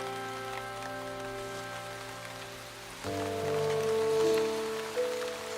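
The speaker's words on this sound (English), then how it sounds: "it's pelting with rain. Really, really wet." Heavy rain pelts down steadily on a garden in a wet South African setting, a dense hiss of drops under a sustained tonal drone that swells louder midway.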